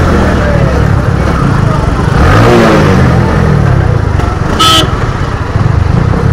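A motorbike engine revs loudly and close by, its rough drone swelling in the middle and then settling, with people talking over it and a short horn blast near the end.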